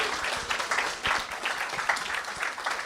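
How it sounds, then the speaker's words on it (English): A congregation at a Sunday church service gives a round of applause, a fairly faint, steady patter of many hands with a few sharper individual claps standing out. "Let's give her a round of applause."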